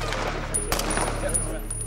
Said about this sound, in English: The sudden movement prompts an order to open fire.